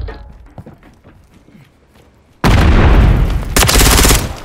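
Gunfire erupts in a video game battle as a frag grenade is thrown, with scattered distant shots and faint activity giving way to a sudden loud, sustained burst of rapid fire and blasts.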